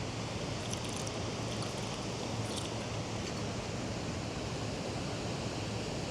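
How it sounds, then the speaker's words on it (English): Ocean waves wash steadily behind the speaker, a continuous broad rushing surf at moderate level with no voice over it. "even in the ocean behind me, there are these waves"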